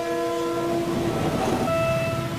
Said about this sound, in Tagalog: di alintana ang malakas na busina ng tren at alarma ng crossing keeper